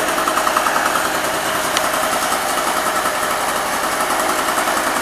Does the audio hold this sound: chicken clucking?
no